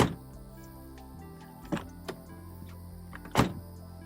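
Solid doors on the cab of a 1990 Toyota 4x4 motorhome shut twice, each a firm, close thud with a brief rattle, the second louder, over a low steady hum.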